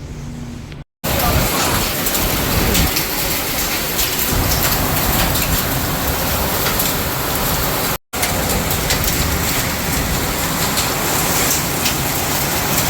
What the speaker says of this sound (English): I think it's raining out there.